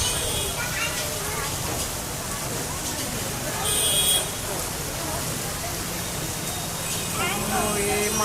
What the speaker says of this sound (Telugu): చూడండి ఫ్రెండ్స్ వాన ఎట్లా వస్తుందో